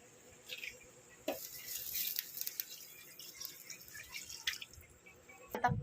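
Water trickles and splashes into a pot of chicken for tinola in short bursts, with sharp clinks of metal between pours, close and fairly quiet.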